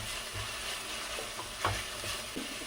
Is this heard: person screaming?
no